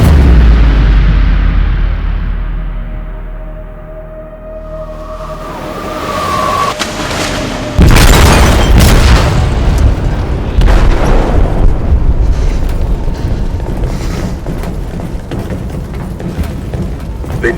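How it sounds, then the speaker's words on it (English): An explosion in a ship's hold in Detroit: Become Human: a deep low rumble swells, then a heavy boom hits hard and leaves a loud roaring, crackling aftermath with scattered bangs. "They detonated an explosive in the hold."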